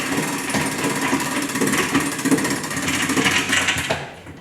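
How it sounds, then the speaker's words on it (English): A hand crank raises a Muskoka teak patio umbrella, giving a continuous close mechanical rattle of rapid ratchet-like clicks that runs steadily before stopping abruptly. "opens and closes easily by simply cranking this handle"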